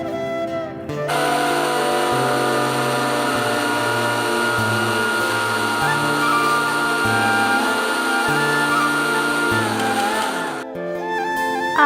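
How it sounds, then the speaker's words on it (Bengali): An electric grinder whirs steadily while grinding rice, a loud, close mechanical drone that starts abruptly, holds with a wavering pitch for about ten seconds, then cuts off. "চালটা আর কি ভালো করে বেটে নেব"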